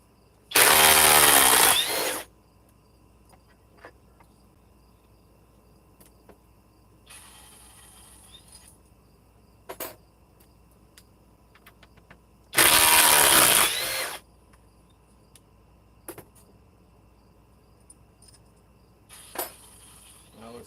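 Cordless power tool spinning fasteners out with a quick-eject action, in two loud whirring bursts of about two seconds each, separated by quieter handling clicks and faint shorter tool runs.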